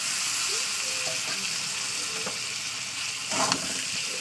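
Tomato and egg frying in hot oil in a pan for an egg and potato curry, a continuous loud sizzle with a few soft scrapes of stirring and a brief knock near the end, close up.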